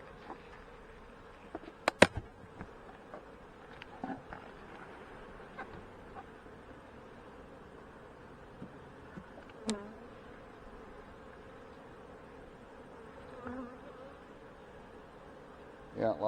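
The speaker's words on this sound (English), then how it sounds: "lots of bees up here" Honey bees around a hive drone in a constant, busy buzz close to the microphone, with occasional sharper knocks and clicks cutting through.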